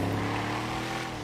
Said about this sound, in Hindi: और ये हेलीकॉप्टर जा रहा है